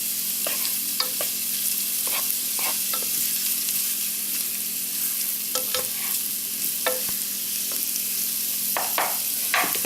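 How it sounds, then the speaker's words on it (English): Steady crackling sizzle of onions frying in butter over medium heat, with occasional soft scraping taps from stirring, no voices. "As you can see, the onions are starting to sizzle now."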